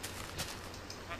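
Sheep bleating in a Minecraft game, a few short nasal bleats close together over a quiet background with no talking.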